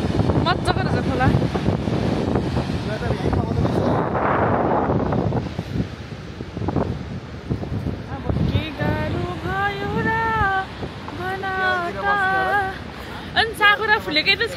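Wind gusts across a riverside picnic spot in Nepal, a steady broadband rush with buffeting on the microphone, loud throughout while people talk over it in the second half.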